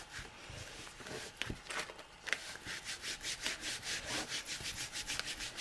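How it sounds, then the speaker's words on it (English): Crinkled paper is smoothed flat by hand on a junk journal page, a series of soft, rhythmic rubbing and brushing strokes, close and fairly quiet, with no talking. "So you want to smooth out all of these crinkles."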